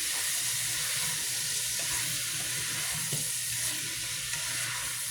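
Potatoes frying in a pan with onions and garlic, a steady bright sizzle and hiss throughout with a few soft stirring knocks, close and even, no talk.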